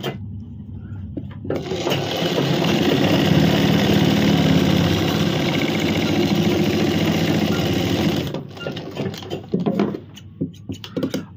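A sewing machine runs in one continuous steady whir while stitching the side seams of a suit, close and loud for several seconds, then stops, leaving light handling clicks of fabric.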